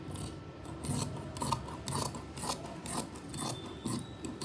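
Scissors cutting through fabric for palazzo trousers, with a series of close crunching, rasping snips in an uneven rhythm, about a dozen strokes across a few seconds with no talking.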